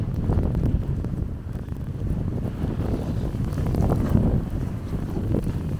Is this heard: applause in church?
no